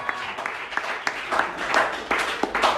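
A church congregation applauds to acclaim the Lord, with steady clapping and several sharper bursts of louder applause, joined by a few voices.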